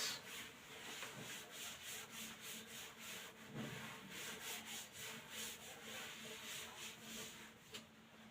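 A board eraser rubs writing off a classroom board in steady back-and-forth strokes, a soft scratchy swishing that repeats rhythmically and sits close and fairly quiet, with no talking.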